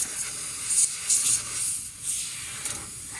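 Air from a Carrier unit's fan blowing against the compressor, a steady close hiss with soft rushing swells that rise and fall several times.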